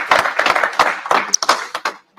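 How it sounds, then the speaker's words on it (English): Outdoor street crowd at a Birmingham gathering gives a burst of hand clapping, ragged and close, with sharp individual claps standing out before it tapers off to near silence at the end. "Clap it up."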